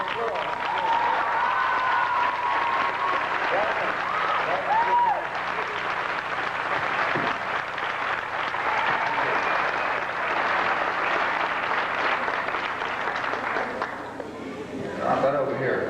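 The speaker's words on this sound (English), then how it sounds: "Let's give them a round of applause" A crowd at the Monkees' 1989 Hollywood Walk of Fame star ceremony applauds friends from Japan, a loud, sustained outdoor round of clapping with voices and chatter mixed in, thinning briefly near the end.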